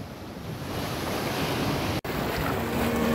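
Large ocean waves crash and roll continuously near a coastal cave, a broad roaring wash of surf mixed with wind buffeting the microphone, with one brief dropout.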